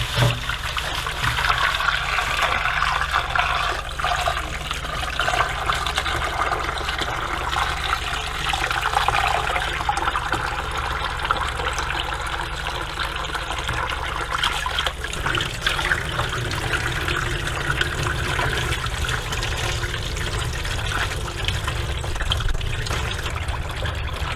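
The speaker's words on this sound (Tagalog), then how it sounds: "Hugasan muna natin yung ating bangus." Milkfish (bangus) is rinsed under a running kitchen tap, giving a steady, close splashing and trickling of water that carries on without a break, with no one talking.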